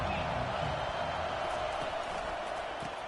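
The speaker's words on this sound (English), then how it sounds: "This crowd bringing an ear-splitting welcome to their visitors." A loud stadium crowd in a college football video game gives visitors a raucous welcome, a constant broadband roar with no breaks, steady from start to finish.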